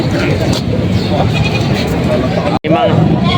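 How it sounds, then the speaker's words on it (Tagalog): Native goats bleat amid a loud, busy outdoor din of chatter and engine noise at a crowded goat market, the calls rising briefly over the clamor. "May mga kambing sila sir dito, mga native na kambing."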